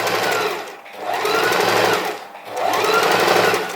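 Sewing machine stitching fabric guided by a quilting bar, running in steady bursts of rapid needle chatter with two brief pauses, close and loud, no talking.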